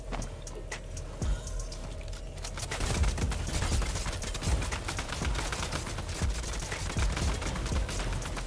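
Rapid bursts of gunfire ring out in a shooter video game, sharp repeated shots fired down from an elevated position, dense and continuous over a steady rumble with no talking.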